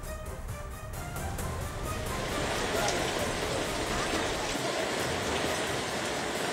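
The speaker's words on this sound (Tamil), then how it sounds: "ராமேஸ்வரத்தில் நேற்று முதல் வந்து 2 தினங்களாக வந்து மழை பெய்ய தொடங்கியுள்ள நிலையில்" Heavy rain pours steadily during a downpour in Rameswaram, a dense continuous hiss of drops hitting surfaces, loud and close with no pauses throughout.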